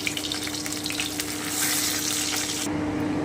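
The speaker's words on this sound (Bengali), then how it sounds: "এবারে আমি এই তেলে তেজপাতা দিয়ে দিলাম শুকনো লঙ্কাটা দিয়ে দিলাম এলাচ আর দারচিনিটাও দিয়ে দিচ্ছি আমি একটু নেড়ে নিচ্ছি" Bay leaf, dried red chili, cardamom and cinnamon fry in hot oil while being stirred, giving a continuous close sizzle with a brief swell of crackle partway through and no talking.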